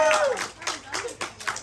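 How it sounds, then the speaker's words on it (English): A live audience at a magician's show claps for a volunteer, a short burst of scattered, moderately loud hand claps lasting under two seconds, with no clear talk. "Give Sasha a nice round of applause here."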